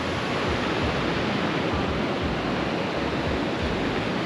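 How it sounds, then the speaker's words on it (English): Ocean surf rolls onto the beach at Hiriketiya as a continuous, loud, broadband wash of breaking waves, steady throughout with no voices. "Now we're on an awesome beach right opposite Smoking Bitters"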